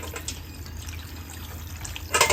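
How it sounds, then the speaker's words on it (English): Water added to a blender jar of scent leaves, a soft trickling pour that runs quietly throughout before a brief louder splash at the end. "Add in some water."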